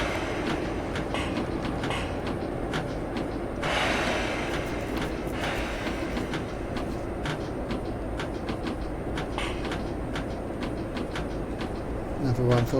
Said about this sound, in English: Seems to be a fast train going straight through.